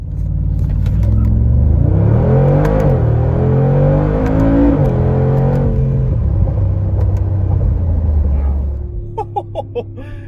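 A Mercedes-Benz G63 AMG launching from a standstill and accelerating hard, heard from inside as a loud, deep engine roar that climbs through gear changes before easing into a steady rumble near the end.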